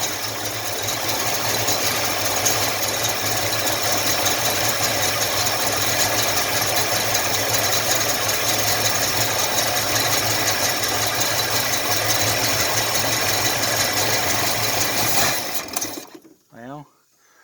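A 1983 Ford Mustang Fox body engine idling with a newly fitted carburetor, a steady close rumbling idle for about fifteen seconds before cutting out, with a few faint voices after it stops.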